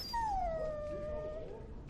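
A warhound dog in Dragon Age: Origins lets out a single drawn-out, falling whine that trails into a soft whimper, close and clear over a low ambient rumble.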